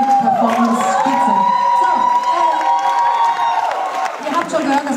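A live rock concert audience cheers and shouts for an encore, a dense, loud crowd roar that holds steady throughout, with whoops rising above it and a host speaking over the noise.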